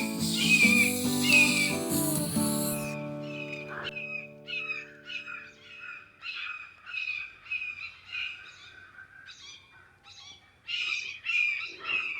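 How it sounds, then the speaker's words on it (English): Several garden birds call sharply and repeatedly during a squabble, a jumble of chirps, squawks and whistles coming in uneven bursts at close to middle distance, after a short tonal, humming sound at the start fades away. "There's a bird fight going on."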